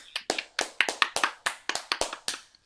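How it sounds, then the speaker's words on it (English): A small group of podcast hosts clapping, about ten crisp, separate claps in a loose uneven rhythm, close and clear with no talk over them. "Yes, clap for me, clap for me."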